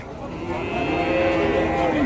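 Cattle mooing in a long low drawn-out call amid a busy outdoor din at a native cattle market in Kundarapalli, Krishnagiri district, India, with a faint murmur of people around.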